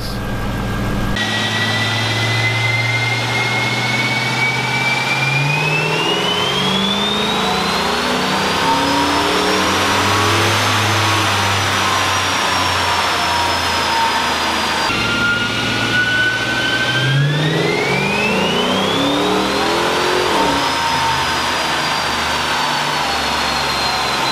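Procharger-supercharged Dodge Charger SRT8 V8 on a dyno after a fresh tune, revving hard in two long pulls, engine pitch climbing steadily with supercharger whine, loud and close throughout.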